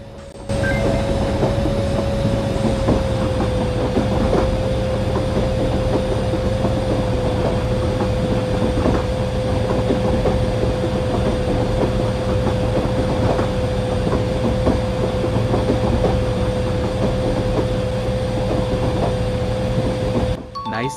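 A train rolls along in the Indian Train Simulator game with a constant, close rumble and faint rhythmic clatter, a steady tonal whine riding over it from start to finish, and no talking.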